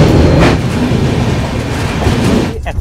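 A train pulling out of Dakshineswar railway station gives a loud, steady rumble and rattle from close on board, fading slightly near the end.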